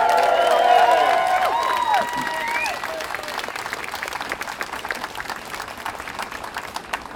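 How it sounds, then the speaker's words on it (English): A rally crowd at a Norfolk People's Assembly event bursts into loud applause and cheering. Voices whoop over the start, then steady clapping continues throughout. "that defiance in itself is worth a round of applause and a cheer for yourselves"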